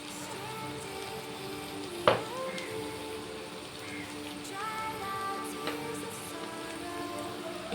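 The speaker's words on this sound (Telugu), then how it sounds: "1 మినిట్ ఈ మసాలా మొత్తం ఫ్రై అయితే సరిపోతుంది" Masala spices frying in a pan for a chana dal (senagapappu) masala curry: a steady soft sizzle with a few sharp pops and stirring clinks, moderately faint throughout.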